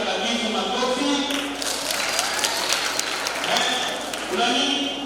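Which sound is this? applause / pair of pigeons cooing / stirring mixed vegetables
applause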